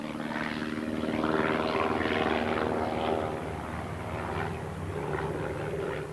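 A propeller-driven airplane on a 1986 test flight in marginal weather drones steadily throughout, its engine hum and propeller beat holding a constant, fairly loud level with no talk.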